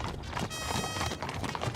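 Hooves of a small horse clip-clop in a steady walking rhythm, faint and slightly muffled under a broad noisy background.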